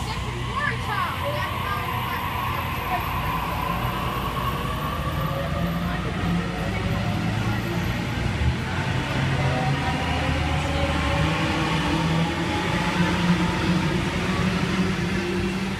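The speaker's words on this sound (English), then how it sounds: "A62 departing platform number 2." A Sydney Trains A-set electric train pulls out of Canley Vale station, a steady rising motor whine and rolling rumble that build over about fifteen seconds at close range, with people talking faintly in the background.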